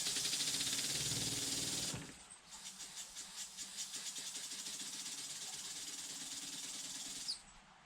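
A double-acting wig-wag model engine runs on compressed air: a steady hiss of air, then from about two seconds a quick, even train of exhaust puffs close by until the air cuts off near the end.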